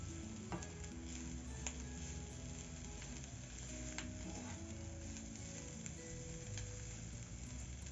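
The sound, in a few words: minced meat with onions and garlic cooking on low heat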